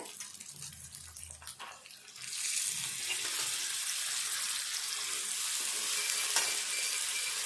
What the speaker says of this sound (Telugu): ఇందులో వేసుకొని మంచిగా ఇది కూడా ఫ్రై కావాలి.